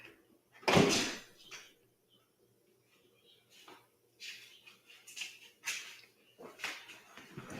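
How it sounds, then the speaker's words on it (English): Back door being closed indoors, a sharp knock or thump near the start followed by scattered softer clicks and rustles, fairly faint overall. "Let me close this back door."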